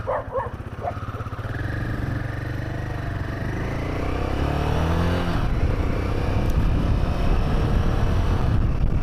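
A Triumph Tracker 400 motorcycle launches hard with strong initial torque, its engine note rising steeply in pitch and volume and then settling into a loud, continuous roar up close.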